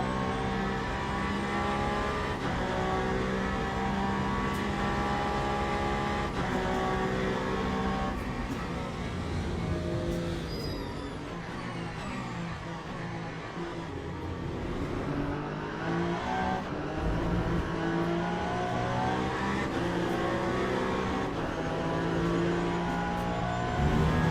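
Peugeot race car engine in Le Mans Ultimate at Interlagos, a steady high-revving drone with repeated gear shifts, lifts and re-accelerations across a sustained lap stretch, loud and continuous without talk.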